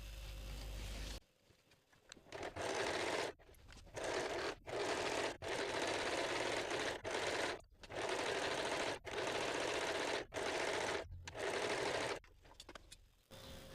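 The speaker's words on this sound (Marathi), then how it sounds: "वरच्या साईडने शिलाई मारून पूर्ण अस्तर आता आपण जोडून घ्यायचं आहे." Sewing machine running in repeated short bursts as it stitches a lining onto a puff sleeve, a steady mechanical whir broken by brief pauses between runs, close and with no speech.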